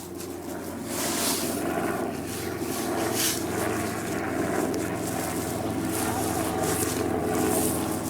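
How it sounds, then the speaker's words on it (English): Helicopter flying overhead during an outdoor dressage lesson, a steady loud rotor and engine roar that holds across the whole stretch with broadband wind-like rush, alone without talk. "I can't hear you with the helicopter"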